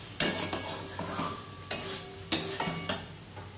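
Potatoes with spices being stirred in a pan alongside fried prawns and pointed gourd, giving repeated scraping strokes of a utensil with soft sizzling underneath, close and moderately loud, with no talking.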